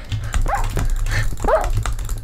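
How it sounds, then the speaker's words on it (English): Dogs in a video game give a couple of short barks and yips, sharp and close, spaced about a second apart over a low rumbling background. "There's dogs! Oh, hi, doggy!"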